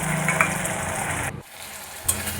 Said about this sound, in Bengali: সর্ষে পোস্ত বাটা দিয়ে বেশিক্ষণ কষাবো না দু মিনিট নেড়ে ছেড়ে